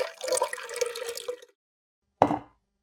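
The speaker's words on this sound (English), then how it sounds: "Now I'll add the oil." Cooking oil pours into a bowl in a steady stream for about a second and a half, then stops. After a pause comes one short splash.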